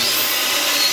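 An angle grinder working on a short welding rod gives a loud, steady, harsh hiss of abrasive grinding, close and unbroken for under a second.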